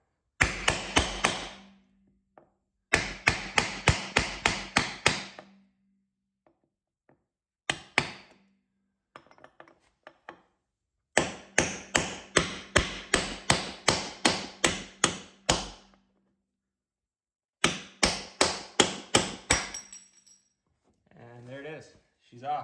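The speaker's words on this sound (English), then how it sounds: "Get all this epoxy kind of started to chip off." Old epoxy being chipped off a metal bracket, loud sharp taps and knocks coming in rapid bursts of several strikes, separated by silent pauses.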